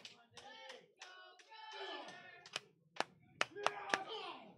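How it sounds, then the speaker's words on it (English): Someone claps by slapping their stomach, producing several sharp, fleshy smacks in the latter half, mixed in with voices talking loudly over them. "you're using your stomach as a way to clap right now"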